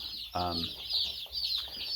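Baby chicks and hens clucking in an open pasture alongside cattle, a short burst of clucking over faint chirping and a steady high-pitched cheeping background.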